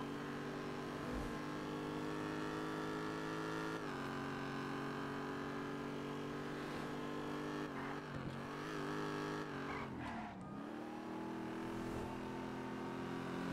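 A motorbike engine in a roleplay video game drones steadily and loudly throughout, its pitch briefly sagging and recovering near the end as the bike pulls away.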